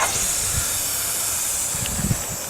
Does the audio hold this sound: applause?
no